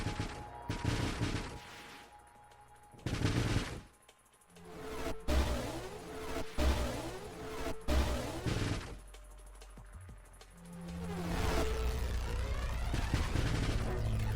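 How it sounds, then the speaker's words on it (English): Armor-piercing missiles fired at a boss in the space shooter Nova Drift, a clattering series of loud bursts and explosive impacts with short gaps, some swelling booms and a sustained rumble near the end. "Come on, get those missiles in there."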